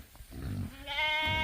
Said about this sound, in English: this goat's crying for his mama.